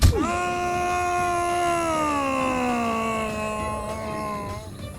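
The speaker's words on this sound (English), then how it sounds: "That death scream was hilarious." A drawn-out, wailing death scream from a Roblox player character, one sustained tonal cry that slowly falls in pitch over about five seconds after a sharp onset.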